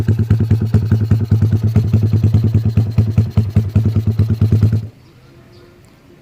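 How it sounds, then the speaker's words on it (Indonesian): A Yamaha MX motorcycle with a 155cc bore-up engine and WRX aftermarket exhaust idles with a loud, rapid pulsing putter, close by in a residential complex, then cuts off abruptly into quiet. "Soalnya suaranya juga udah keras banget nih motor."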